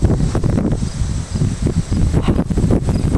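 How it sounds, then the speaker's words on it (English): Steady wind blowing from the south during a summer storm, a continuous low rumbling rush with gusty buffeting across the microphone, no voices. "Good steady wind coming from the south."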